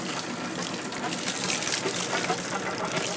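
Water gushes steadily from the engine exhaust at the stern of a Shannon 28 cutter-rigged sailboat during winterizing, a close, continuous splashing rush with no pauses.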